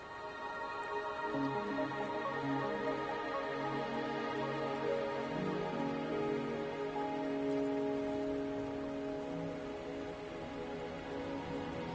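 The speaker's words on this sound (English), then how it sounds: "Are you trapped here by the rain?" Steady rainfall in the game Wuthering Waves, a constant patter on surfaces beneath a sustained soft musical score, moderate and even throughout.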